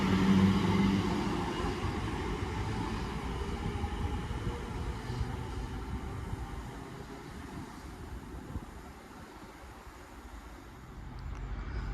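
A freight train running from Wembley to Tunstead rumbles through a station on the Walsall line, a steady low roar of wagons passing close by, slowly easing off.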